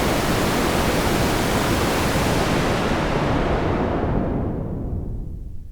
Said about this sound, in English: There's the white noise.